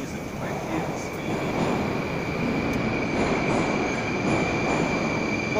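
A Moscow metro train rolls along with a steady loud rumble and faint wheel squeal, slowing as it pulls into Nagatinskaya station.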